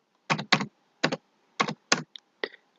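Sharp keystrokes on a computer keyboard as an address is entered in Microsoft Word: about seven distinct clicks, some in quick pairs, spaced irregularly over a few seconds and close to the microphone, with no talking.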